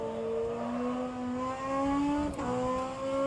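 An inline four-cylinder turbocharged race car engine in rFactor 2 drones loudly and steadily with rising pitch, a brief gear-shift dip partway through, then climbs again, alone without talk.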